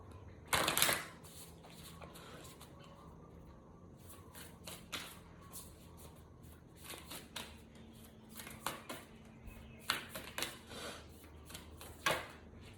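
A deck of oracle cards being shuffled, with quick riffling bursts and soft papery slaps repeating in uneven clusters, fairly quiet and close, no talking.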